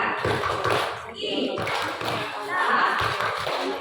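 Parents at a kindergarten parenting event join a rhythmic group clap, a patterned burst of quick hand claps and taps in short phrases, close and fairly loud, mixed with a speaking voice leading them.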